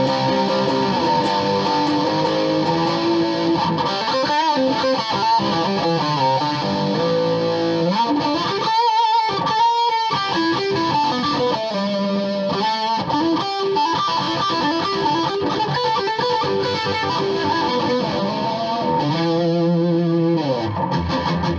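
Squier Jazzmaster 40th Anniversary Vintage Edition electric guitar on the bridge pickup, playing a high-gain lead tone: loud, sustained distorted melodic lines with bends and brief pauses, steady and up close with no voices.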